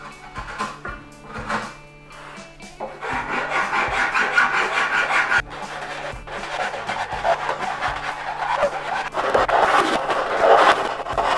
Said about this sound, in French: Diverses formes de râpe et de lime m'aident à obtenir le profil désiré.